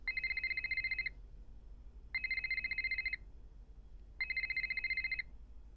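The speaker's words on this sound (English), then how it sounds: "gotta answer the phone myself" An old-style telephone bell rings in three long bursts with short pauses between them, loud and clear over a low hum in a quiet room, heard in the Nancy Drew game Ghost of Thornton Hall.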